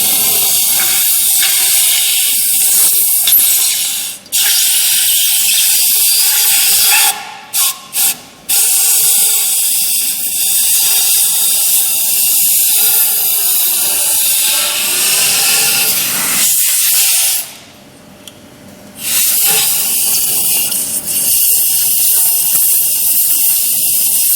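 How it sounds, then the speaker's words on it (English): Compressed air blasts through an underwater pelletizer die to clean it, a loud continuous hiss with a few abrupt cutoffs and sharp bursts near the middle and one brief drop before resuming. "in order to do that, you use compressed air, as you can see now"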